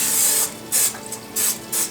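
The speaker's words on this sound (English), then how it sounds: "I will spray the pans with non-stick canola cooking oil" Non-stick canola cooking oil sprayed onto cake pans in four short hissing bursts, close and distinct, with brief pauses between.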